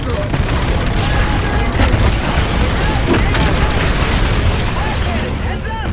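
Heavy gunfire and explosive booms in Call of Duty: Infinite Warfare, a dense, continuous barrage of shots and blasts under excited talk.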